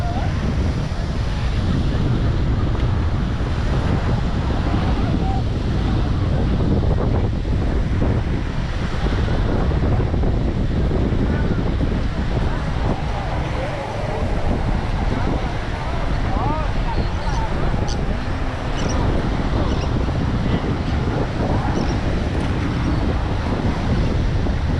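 Strong wind batters the microphone at a Welsh beach, a constant loud roaring buffet with surf mixed underneath, lasting unbroken throughout.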